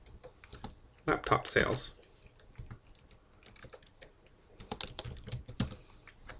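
Quick bursts of keystrokes on a computer keyboard as text is typed into an Excel 2010 spreadsheet cell, close and clear, with a person talking between the clusters of clicks.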